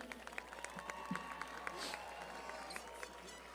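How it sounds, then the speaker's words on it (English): Faint, distant applause from a high school graduation audience, with a steady patter of many hands clapping and some crowd noise beneath. "Big round of applause for our Unidos Academy"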